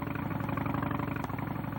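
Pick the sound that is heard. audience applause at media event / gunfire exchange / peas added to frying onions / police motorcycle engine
police motorcycle engine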